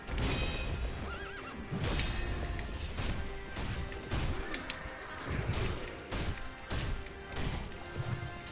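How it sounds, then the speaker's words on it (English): A horse in the video game Sekiro neighs and whinnies repeatedly over clip-clopping hooves and sharp crashing hits from combat, with fire setting it off; loud and close throughout, no talking. "Horse does not really like being set on fire."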